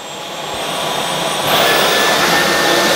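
A Dyson V12 Detect Slim cordless vacuum runs nearby with a loud, steady whine, and its motor rises sharply in pitch and volume as it switches up to boost mode.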